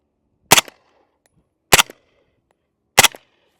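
Three sharp suppressed gunshots from 115 grain rounds fire at an even pace about a second apart, each a short, loud crack that dies away quickly into silence.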